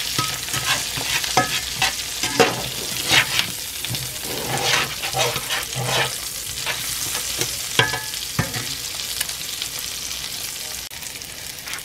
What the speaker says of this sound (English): So let's fry these onions up a bit and all those nice bits and pieces here.